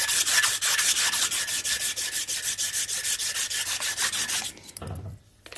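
Close hand sanding of small front brake pins from a Suzuki KingQuad ATV with P400 sandpaper, cleaning off dirt; fast, even back-and-forth rubbing strokes in a regular rhythm, alone, ending with a brief handling noise.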